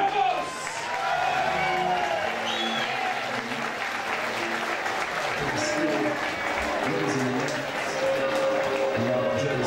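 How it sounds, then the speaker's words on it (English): Loud, sustained applause and crowd noise from a fight-night audience greeting a fighter's introduction, a dense steady roar of clapping lasting throughout with voices mixed in. "Please have a really, really loud round of applause for the man who's travelled here from Spain tonight"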